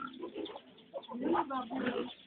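Low grunting oinks repeat in short bursts at close range, with occasional higher chirpy calls mixed in.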